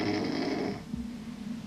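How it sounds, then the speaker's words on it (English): A man snores loudly while asleep in a firehouse, one long rasping inhaled snore that fades into quieter breathing, close and alone. "They sleep and they snore."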